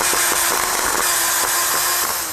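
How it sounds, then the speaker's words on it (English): An electric drill whirs steadily as it drives screws in, a loud continuous motor whine with faint rhythmic pulsing and no voices. "I can drill these screws in with this drill when the button is"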